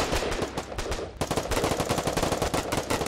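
Rapid automatic gunfire from a video game fills the clip, with loud, close bursts of evenly spaced shots that briefly break and resume, hammering on without pause.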